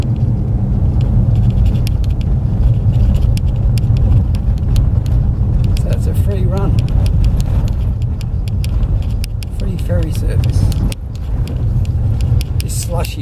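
Car driving a slushy road between Fort Nelson and Fort Simpson, Canada, in March: a steady, loud low rumble of engine and tyres throughout, with brief clatters and a dip near the end; a voice is heard in the background.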